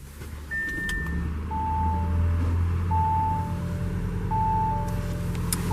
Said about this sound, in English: to start, foot on the brake and just press right here.